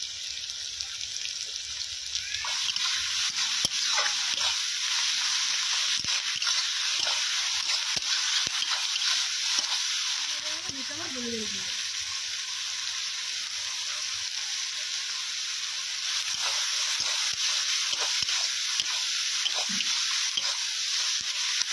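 Onions frying in a pan on a rainy day, a steady loud sizzle running throughout with occasional stirring scrapes and clinks.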